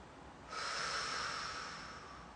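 A single steady breath drawn in through the nose during a calm relaxation exercise, starting after a brief pause and holding as a soft, airy hiss for nearly two seconds, close and quiet with no talking.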